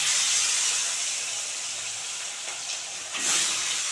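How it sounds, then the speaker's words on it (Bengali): Fish frying in well-heated white oil in a wok: a loud, steady, close hiss of sizzling that swells briefly toward the end, with no voices. "কড়াই ভালো করে তেতে গেছে, এবারে মাছগুলো দিয়ে দেবো"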